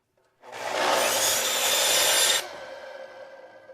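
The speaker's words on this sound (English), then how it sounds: "we'll just go ahead and make a quick cut here" Power saw making a quick square cut across the end of a wooden board for a rustic X bench, a loud close two-second burst of cutting that stops abruptly, followed by the fading whine of the blade spinning down.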